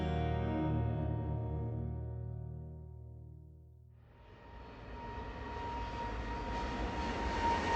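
A steady low engine drone fills an aircraft cabin, with a broadband rush of airflow rising and growing louder in the second half.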